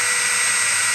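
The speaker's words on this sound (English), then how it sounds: "I've got a small drill I'm going to use for a pilot" A small power drill whines steadily at high pitch, boring a pilot hole for a screw into an RV fender during a replacement, loud and continuous close by with no voices.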